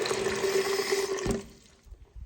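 Water being scooped from a cooler: a brief sloshing, pouring rush with a faint tonal ring, which cuts off at about one and a half seconds into quiet handling and light clunks.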